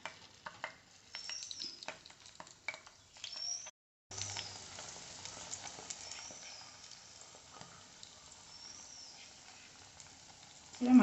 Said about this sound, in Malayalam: ഇത് ചൂടായിട്ട് ഇതിലേക്ക് ചെമ്മീൻ ഇട്ട് കൊടുക്കാം.